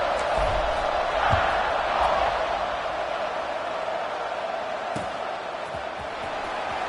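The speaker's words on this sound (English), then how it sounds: "this crowd is feeling themselves after that last drive" Football stadium crowd noise fills the space during a kickoff, a steady loud roar of cheering throughout with a few brief thumps.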